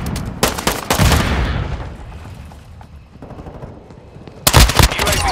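Gunfire in the video game Call of Duty: Modern Warfare II, loud bursts of automatic shots near the start and again at the end, with quieter battlefield noise between.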